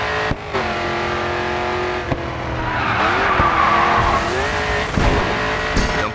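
Race car in GRID 2 sliding through a turn on a Riverside, Chicago circuit: a loud, steady engine drone with a long tire squeal as the back end steps out, then revs rising again.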